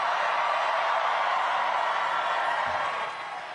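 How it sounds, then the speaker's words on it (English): Crowd applause at a New York City mayoral victory speech, a dense steady wash of clapping and cheering that fades slightly toward the end. "please give them all a round of applause"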